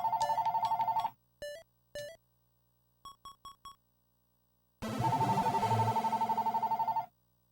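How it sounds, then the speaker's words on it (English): A telephone rings in repeated bright electronic trills: a long burst, several short chirps, then another long ringing stretch, loud and alone with no voices. "I'm sorry about the phone ringing."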